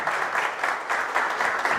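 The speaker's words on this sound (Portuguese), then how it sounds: "Deixa eu pedir, portanto, uma salva de palmas para a Keila, para o subcomandante, para todos que realizaram esse evento." A round of applause at a public security seminar in Arraial do Cabo, many hands clapping in a steady, dense patter throughout, no voices over it.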